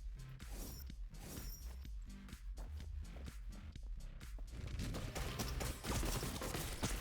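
Rapid bursts of bullets fired from a trumpet weapon in the video game Neon Abyss, a busy crackling barrage of shots and impacts that thickens and grows louder toward the end, with no talking.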